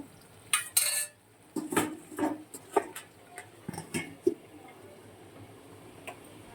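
A lid is set over a cooking pot of potato and pointed gourd curry, making a few sharp metallic clanks and clinks in close bursts before the kitchen goes quiet.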